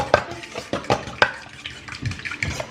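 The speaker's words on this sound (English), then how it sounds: "Give our eggs just another really quick whisk here just to make sure that" Eggs whisked in a bowl in a home kitchen during breakfast meal prep, a quick run of sharp clinking strokes near and clear, with no talking.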